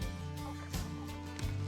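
White leghorn chickens clucking and calling in a yard, a steady low mixed flock murmur with a few louder bursts, close by and without talk.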